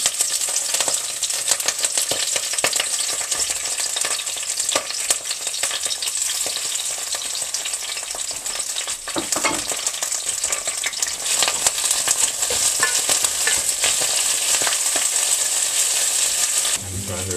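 Kale and spinach sizzle in a hot frying pan for a tofurkey and kale dish, a dense, steady close-up hiss and crackle that runs without a break, with faint scrapes near the end.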